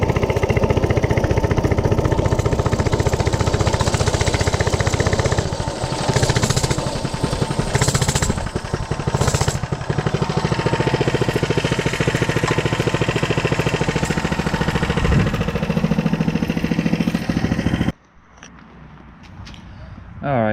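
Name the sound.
Coleman CC100X minibike engine running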